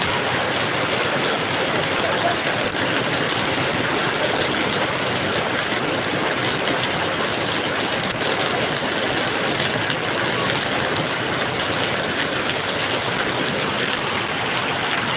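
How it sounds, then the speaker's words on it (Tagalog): Heavy rain pouring down during days of flooding, a loud, unbroken hiss of downpour that stays dense and constant throughout with no pauses. "Ah, grabe na yung ulan, noon. Oh. Lakas, oh."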